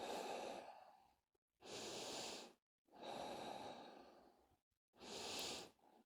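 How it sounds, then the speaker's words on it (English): Deep yoga breathing, four slow, long breaths close to the mic, each a soft airy rush separated by short silences. "Breathing deeply."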